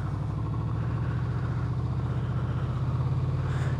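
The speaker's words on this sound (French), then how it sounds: "Alors ça claque vraiment fort, je trouve, à bas régime, le moteur." A 2015 Honda VFR 800 motorcycle engine ticks over at low revs, with a steady, even idle throbbing close by, and no talking.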